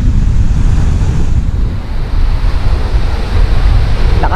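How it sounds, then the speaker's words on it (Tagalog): Strong ocean waves crash and roar continuously at Balagbag Beach, a loud, dense surf wash mixed with heavy wind buffeting the microphone. "Sobrang lakas ng alon, di ba?"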